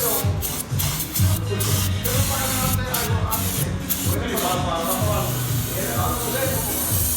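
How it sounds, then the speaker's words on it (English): Loud, steady hiss of brake cleaner spray in repeated long bursts with brief breaks, close to the microphone, cleaning a car throttle body, with low rumbling in the background. "This is brake cleaning."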